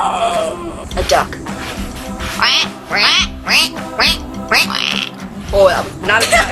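A person imitates a duck with a rapid run of nasal quacks, about ten short bursts in an uneven rhythm, loud and close, during an animal noise contest.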